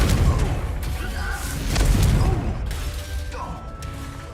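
A Confringo blasting spell in the Hogwarts Legacy video game erupts in a burst of booming, crashing impacts with rumbling debris that fades over a few seconds, close and loud.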